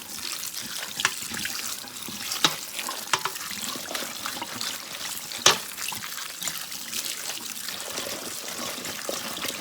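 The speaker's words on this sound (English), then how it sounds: "Give it a good rinse." Cauliflower florets rinsed under a running kitchen tap: a steady, close splashing rush of water with small irregular spatters and drips, no talking.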